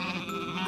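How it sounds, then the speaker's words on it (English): A sheep bleats once in a brief, wavering, nasal call that is fairly clear and close, with no voices over it. "And these are the sheep."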